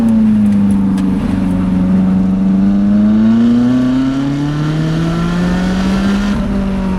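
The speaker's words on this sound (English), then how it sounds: "Downshifting here because the hairpins." A sports car engine on a winding mountain road with hairpin bends, droning loud and steady with rising and falling pitch as the driver works through the gears.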